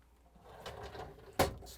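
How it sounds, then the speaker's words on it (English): A drawer is pulled out of a Whirlpool, KitchenAid or Maytag refrigerator during a light module replacement, a faint plastic rustle and slide ending in a single sharp knock, close and quiet. "I would like to remove a couple of drawers and the shelves"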